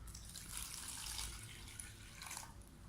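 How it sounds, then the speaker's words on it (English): Water runs and splashes as a cup of it is poured, a faint steady hiss with a brief surge near the end, heard alone without voices. "Put one cup of water."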